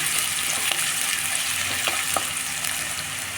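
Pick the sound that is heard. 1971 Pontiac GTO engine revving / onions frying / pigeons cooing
onions frying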